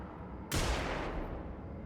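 A flashbang grenade goes off in the video game Xenonauts 2, a sudden loud burst after half a second of quiet that rings out and slowly fades over the next second.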